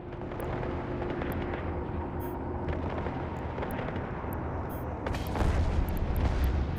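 A dense, continuous barrage of ship guns fires at a drone armada in the space game Eve Online, forming a rumbling, crackling wall of rapid shots that swells slightly louder near the end.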